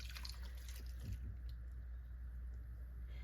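Beef broth poured over beef in a crock pot, giving a faint, close liquid splash and trickle that is quiet and brief.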